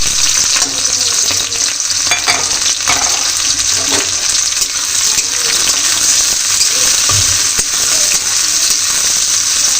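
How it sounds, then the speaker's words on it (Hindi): Onions and chilies sizzle and fry steadily in hot oil, a loud, dense, continuous crackle close up with no voices. "मोर तेल गरम हो गया मैं प्याज और मिर्ची डाल देती हूँ"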